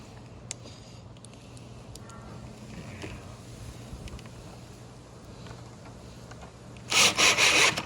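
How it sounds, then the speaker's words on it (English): A drill bores a hole in a wooden casement sash, a brief loud whirring burst near the end after a stretch of quiet handling and low background hum. "Drill my hole."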